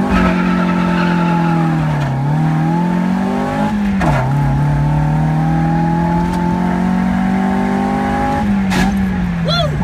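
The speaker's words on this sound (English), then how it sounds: "So we're just gonna do a little quick burnout and we're gonna romp" Car doing a short burnout after a wheel bearing job, with a loud, sustained tire squeal and revving engine rising and falling in pitch across several pulls.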